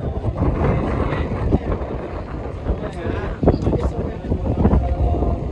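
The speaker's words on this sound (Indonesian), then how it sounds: "Di sini anginnya cukup kencang." Strong wind buffets the microphone on a parade train ride, a loud rumbling roar with gusty bursts, while a person speaks over it.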